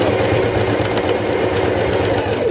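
A sewing machine stitches a short section of a jacket sleeve, its fast steady mechanical rattle and hum close and continuous, with no talking.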